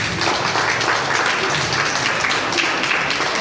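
An audience applauds the winner of a Mithila painting and drawing competition, with dense, continuous clapping from a crowd that holds steady throughout.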